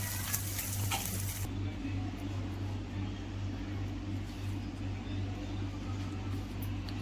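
Banana vada batter with coriander and salt is stirred and sautéing in a pan, a soft, low sizzle over a steady low kitchen hum, slightly brighter at the very start.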